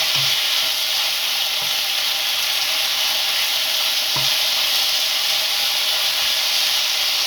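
Chicken pieces frying in a pan for chicken fried rice, a constant bright sizzle with occasional stirring taps and scrapes, steady and close throughout, without speech.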